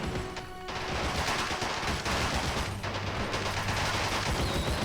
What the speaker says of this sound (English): Oh, those Lewis guns sound cool.